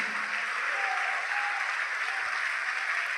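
Church congregation applauding together, a steady wash of clapping from many hands that holds at an even level for the whole stretch, with no voices standing out.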